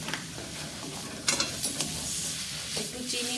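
Carrots fry in a covered pan with a soft, continuous sizzle, punctuated by a few close scraping clicks and knocks of stirring, with no talking.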